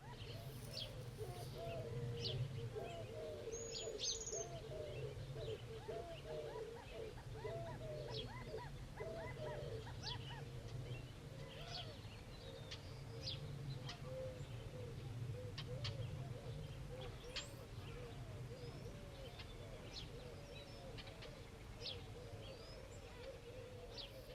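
Birds at dawn, a continuous chorus of soft dove coos and scattered chirps and tweets over a steady low hum, fairly quiet and unhurried throughout.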